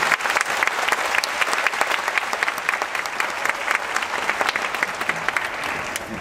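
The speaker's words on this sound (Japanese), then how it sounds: "拍手でお送りください。" Audience applause at a Japan Air Self-Defense Force Nara base festival concert, sharp crisp claps in a dense steady flow that tapers slightly at the end, with no voices over it.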